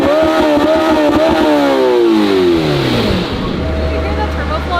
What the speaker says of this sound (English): You can hear that turbo flutter in here.